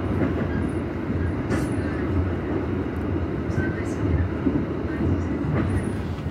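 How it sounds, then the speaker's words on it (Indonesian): Tegal Bahari passenger train pulling out of Pasar Senen station, a steady rumbling roll with faint clicks, heard from inside the carriage, continuous and moderately loud throughout. "kereta api Tegal Bahari sudah berangkat dari stasiun Pasar Senen"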